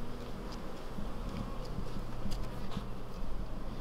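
Honey bees buzzing around a beehive frame shaken free of bees at an apiary, a dense continuous low hum with many overlapping insects, close and steady.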